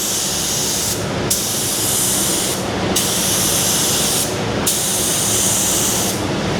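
A spray gun lays a paint coat over a rub-through repair on a Holden Torana in a loud, steady hiss, broken by three brief pauses between passes.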